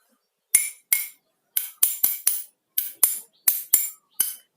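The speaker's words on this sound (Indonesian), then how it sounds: "gelas yang berisi air 1/4" A drinking glass filled a quarter with water is struck repeatedly with a hard utensil, giving eleven bright, ringing clinks in uneven pairs and singles, each ringing briefly before fading, close and clear with no voices.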